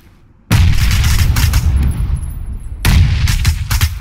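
Gunfire in PUBG, a loud burst of shots that starts suddenly and goes on for several seconds, with a second volley near the end.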